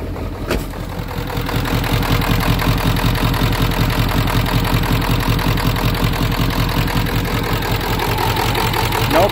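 A 1995 Ford F350 with a 7.3 Powerstroke turbo diesel, low on coolant, catches and settles into a loud, steady idle with an even rattling clatter, heard up close for several seconds.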